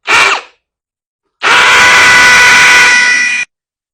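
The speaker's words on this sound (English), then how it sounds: "Now take your hammer drill, mark some holes" A hammer drill drills holes to mount an electrical box in a garage: a short burst, a pause, then about two seconds of continuous drilling, loud and close, with a harsh grinding whine.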